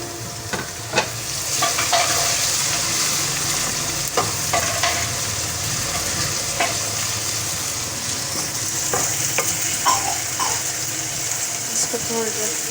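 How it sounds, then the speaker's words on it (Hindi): Crushed garlic and ginger frying in a pan for chicken gravy, with a steady hissing sizzle and scattered clinks of a stirring spoon, close and continuous. "अब मैं इसमें डालूँगी लहसुन अदरक जो मैंने कूटा हुआ था।"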